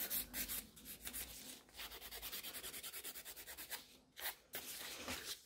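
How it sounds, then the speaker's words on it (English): Gel nail extensions being filed: rapid, rhythmic back-and-forth rasping strokes close up, with short pauses between bursts and no voices. "I'm just going to finish filing them."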